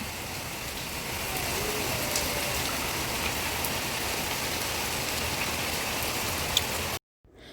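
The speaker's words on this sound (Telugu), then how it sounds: "ప్రస్తుతానికైతే వర్షం పడుతుందనమాట ఫుల్ రెయిన్" Heavy rain pours down steadily in a dense, continuous hiss of drops, cutting off abruptly at the end.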